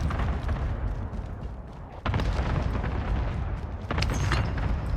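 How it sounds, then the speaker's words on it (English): Allied cluster strike explosions in the video game Warzone form a continuous loud, rumbling barrage, with sharper bursts hitting at about two and four seconds. No voices are heard over it. "Allied cluster strike arriving."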